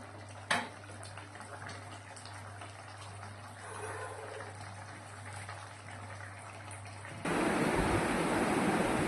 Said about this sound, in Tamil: சட்டியில் கொதிக்குது மீன் குழம்பு